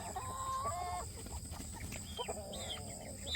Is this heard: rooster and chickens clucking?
yes